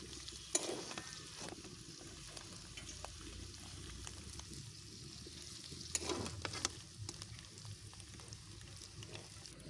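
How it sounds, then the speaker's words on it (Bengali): Food fries in hot oil with a soft, steady sizzle, heard fairly faint and close. Occasional scrapes and clinks of stirring punctuate it. "একটু লাল করে ভেজে নেব। দেখো আমি বেশি ভাজলাম না, একটু লালটি লালটি করে আমি তুলে নিচ্ছি এখন।"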